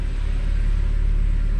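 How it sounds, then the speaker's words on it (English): A Mazda Miata fitted with a swapped J-series V6 drives along, its engine a loud, steady low rumble with constant drone and little variation, heard close from inside the car. "let's take this thing for a quick little drive."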